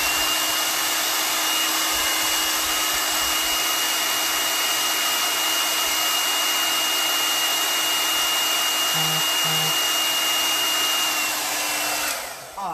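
A hair dryer blows steadily at close range over a chalk craft project, a loud constant whoosh with a faint whine that runs unbroken for about twelve seconds before cutting off at the end.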